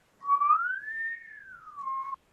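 A person whistles a single smooth sustained note that glides upward and then back down, clear and close, alone with no talk.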